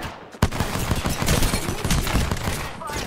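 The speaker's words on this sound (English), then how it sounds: "Some bros are shooting at me. Massive shotgun here." Rapid, dense shotgun and automatic gunfire from an Apex Legends firefight, loud and continuous with sharp repeated blasts.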